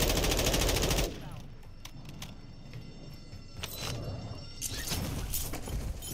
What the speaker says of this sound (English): Let's investigate those gunshots